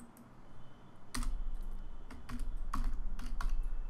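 Keys clacking on a computer keyboard while code is entered, several irregular bursts of close, crisp keystrokes with brief pauses over a low steady room hum, no voices.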